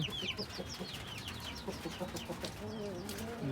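Several chicks clucking and chirping close by in a busy, overlapping chorus on a rooftop, with higher peeping calls scattered throughout; three Pakistani chicks and one local chick.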